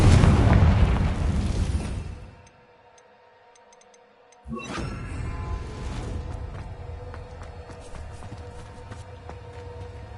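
A Confringo spell explosion in the Hogwarts Legacy video game: a loud, dense boom that drops into near silence for about two seconds, then a second sharp blast with a ringing, crackling tail.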